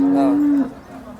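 A single loud, close moo from an HF cow at a cattle market sounds for about half a second, then fades into quiet background noise.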